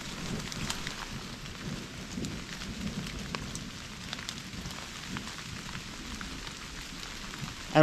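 Heavy rain pours during a thunderstorm while sheltering beneath a massive rock, a steady dense hiss with a low rumbling undertone that holds constant throughout and no voices.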